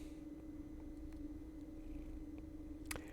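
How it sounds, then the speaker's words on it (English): A cat rubbing and scraping its face against a microphone pop filter makes soft close brushing and rubbing noises with a low purr under a steady electrical hum, plus one sharper scrape near the end. "My cat is just scraping her face all over my microphone filter."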